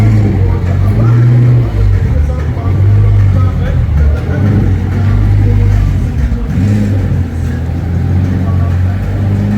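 A Porsche Taycan electric car drives around the Silverstone circuit, giving a steady, loud motor hum with a low drone that rises and falls slightly through the clip, close by.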